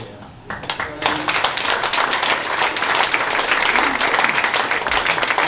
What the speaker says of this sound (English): before the round of applause